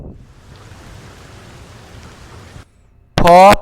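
Soft rain patters steadily for a couple of seconds at low level, then fades out before a brief loud tonal burst ends the clip.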